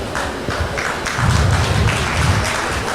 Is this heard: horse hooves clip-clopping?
no